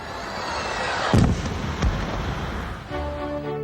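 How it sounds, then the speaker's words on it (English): Fireworks exploding over Canadian towns on a national holiday night, a continuous crackling rumble with two sharper booms standing out, then a tonal hum as it fades. "At night, fireworks fill the skies in towns and cities across the nation."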